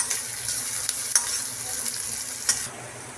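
A spoon stirring bay leaf and crushed ginger-garlic paste in hot oil in a frying pan for a fish curry, with quick scraping strokes over a soft sizzle and no talk.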